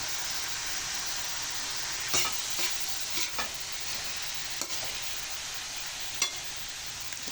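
Pork teriyaki sautéing in a pan with powdered black pepper gives a steady, close sizzle, with a few sharper scrapes and stirs breaking through at intervals.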